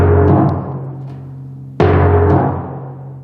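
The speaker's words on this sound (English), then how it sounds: "because when I press in real hard, it actually makes the pitch ascend" Timpani struck twice while the player presses too hard into the head, each stroke ringing with a low sustained tone that bends upward in pitch as it decays, heard alone.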